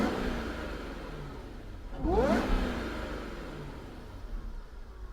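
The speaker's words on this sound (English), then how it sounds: "you can also hear the supercharger whine a little bit" A 2006 Jaguar XJR with a supercharged engine revs once in a short, rising burst, a faint whine riding over the engine rumble before it settles back to idle.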